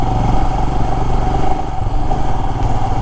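A Royal Enfield Himalayan BS6 motorcycle climbs a long uphill road toward Ponmudi, its single-cylinder engine droning loud and close with steady throttle and constant rumble, along with wind buffeting and no talk.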